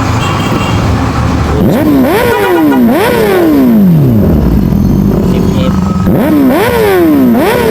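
A motorcycle fitted with a new exhaust pipe revs hard up close, its engine pitch climbing and falling in repeated sharp sweeps over about eight seconds, loud and alone.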